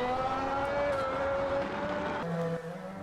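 Formula 1 V10 engine screaming in the Automobilista 2 racing sim, a sustained high-pitched steady wail that drops slightly in pitch near the end as the revs fall, loud and continuous with no talk.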